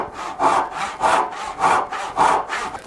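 Hand saw cutting a wooden half lap joint, five even rasping strokes in a steady back-and-forth rhythm, close and clear with no talking.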